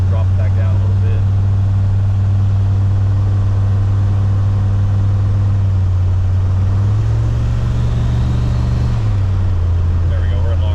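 An LS-swapped Ford Ranger pickup with a new exhaust cruises in torque-converter lockup at 2,000 RPM, giving a steady, fairly quiet low engine drone that continues throughout while someone talks over it.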